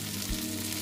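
Koi fish frying in a pan with spices, a dense continuous sizzle heard close and steady through a brief moment, with no voices.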